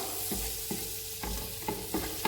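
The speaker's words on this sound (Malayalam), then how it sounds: "വെളുത്തുള്ളി നന്നായി മൂത്ത് വരുമ്പോൾ" Garlic fries in oil for chicken fried rice, a soft steady sizzle with a handful of low thuds and scrapes from stirring repeating every half second or so, with no voices.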